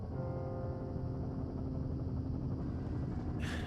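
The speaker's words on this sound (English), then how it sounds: "There's the helicopter." Steady drone of a helicopter in the Firewatch video game, a continuous rotor-and-engine hum that holds throughout, with a brief burst of higher noise right at the end.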